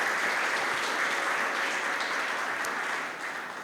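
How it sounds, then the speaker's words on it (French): An audience at a French-language special broadcast event applauds and cheers, a thick, continuous roar of clapping heard from the hall, steady and fairly loud before easing slightly at the end. "que je vous demande d'accueillir, s'il vous plaît, par des acclamations tonitruantes"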